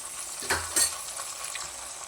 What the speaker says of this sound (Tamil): வெங்காயம் நல்லா வதங்கி வந்துச்சு இப்போது கொஞ்சோண்டு தக்காளி சேர்த்துக்கு